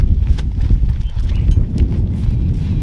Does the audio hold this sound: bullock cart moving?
yes